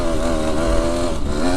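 Enduro motorcycle engine running steadily and loud up close, a continuous mid-pitched drone with small throttle changes and no talk over it.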